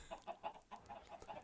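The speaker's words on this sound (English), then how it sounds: "These chickens, I tell you, they're everywhere." Chickens in Minecraft on an Islandcraft map clucking in quick repeated bursts, close and fairly soft, with no talk over them.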